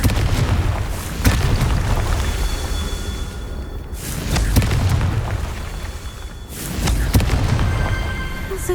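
Confringo fire-blast spells exploding in the Hogwarts Legacy video game, three loud booming blasts spaced a few seconds apart over a constant roaring bed of game sound, each with a sharp crack and rumbling tail.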